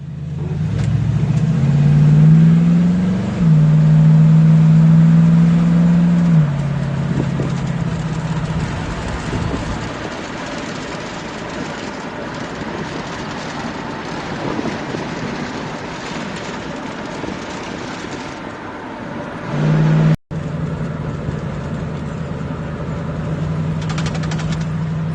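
A 1952 Studebaker 2R5 half-ton truck on a Dakota frame swap drives along, its engine droning loudly and steadily, easing off midway and picking back up near the end over road rumble.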